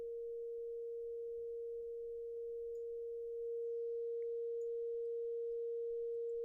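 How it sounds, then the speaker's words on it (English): A software FM synthesizer running as a free VST plugin in Reaper produces a steady, pure, sine-like tone that holds at one pitch throughout, fairly quiet and alone with no voices. "you're using lots of different sort of sine waves affecting other sine waves at different amounts and rates"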